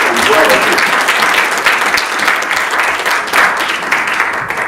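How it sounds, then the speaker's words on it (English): Church congregation applauding a woman coming up to share a tithing testimony: dense, steady clapping from many hands filling the room throughout, with a voice faintly audible early on. "Michelle and I give a big round of applause."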